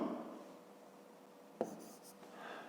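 Pen or pencil writing numbers by hand on paper during a fifth-grade math exercise, faint close scratching strokes with a brief tap midway, quiet and alone.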